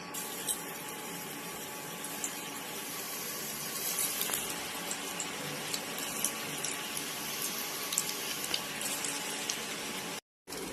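Potato spring rolls frying in hot oil give a steady, loud, broadband sizzle and crackle that runs without a break, with only a brief gap near the end and no talking.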